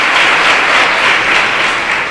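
Sustained audience applause at a motivational talk, a dense even wash of many hands clapping that holds steady for the whole stretch and fades slightly at the end.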